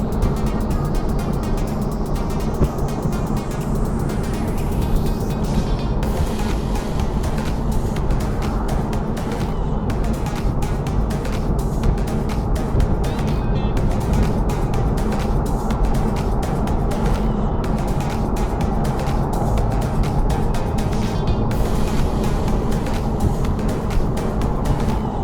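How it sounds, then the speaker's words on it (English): Cabin of a 2021 BMW Z4 sDrive30i at highway speed with windows up, a loud steady low rumble of road and engine noise with wind hiss, continuous throughout, no talking. "So this is highway speeds with the windows up and talking."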